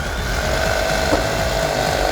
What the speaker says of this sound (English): So I'm gonna just see if a Sawzall can cut through it.